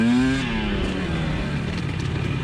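A 2020 KTM 300 XC TPI two-stroke dirt bike revs hard at full throttle, opening with a loud rising engine note that settles into a steady, raspy high-rpm drone, close and alone.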